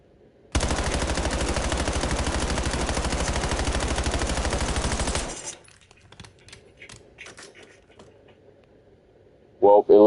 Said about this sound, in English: So we'll shoot our weapon into this track all the way down